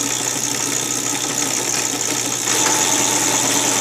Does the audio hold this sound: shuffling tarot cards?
no